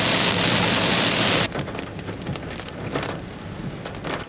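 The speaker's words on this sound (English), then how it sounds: "Just buckets of rain." Heavy rain pours down at a campsite, a dense steady roar for the first second and a half, then a softer patter with scattered louder drops.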